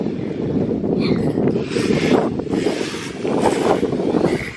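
Strong wind buffets the microphone in a steady, rumbling roar with gusty surges throughout, loud and continuous with no voices.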